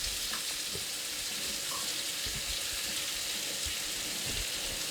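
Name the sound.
margarine melting and sizzling in pan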